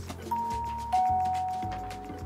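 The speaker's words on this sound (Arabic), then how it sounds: "رجاء حدا فيكم رن على الجرس" An indoor doorbell chimes twice, with two clear ding-dong tones ringing out near and loud over a faint background hum, with no talking.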